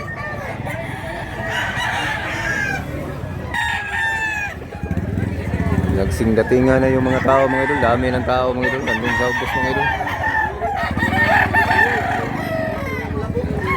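Roosters crow again and again across a busy chicken market in Mantalungon, Cebu, loud and near, their calls rising over a crowd's chatter while someone talks throughout.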